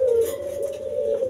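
Iraqi doves (burung puter) kept in cages give a continuous soft, throaty coo close by, steady and unbroken with slight wavering in tone.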